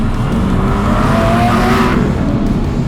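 A V12 exotic car's exhaust roars loudly as it revs on the road, a continuous rising engine howl from start to finish.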